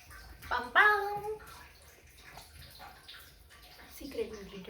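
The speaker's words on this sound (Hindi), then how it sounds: "पानी की टंकी की आवाज आ रही है।" Water pours into a household water tank with a continuous hissing rush that stays low and even, while a voice speaks nearby over it.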